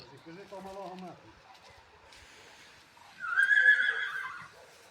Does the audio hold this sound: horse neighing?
yes